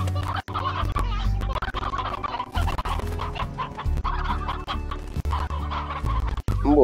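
Chickens and roosters cluck steadily in Slime Rancher, a dense, close flock chattering throughout with no voices over it.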